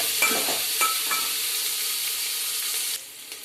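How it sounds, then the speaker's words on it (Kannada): Food fries steadily in a pan with a continuous hiss and a few clinks and scrapes of stirring early on, the sizzle easing a little toward the end. "ಎರಡು ನಿಮಿಷ ನೀಟಾಗಿ ಫ್ರೈ ಮಾಡ್ಕೊಳ್ಳಿ ಎರಡು ನಿಮಿಷ"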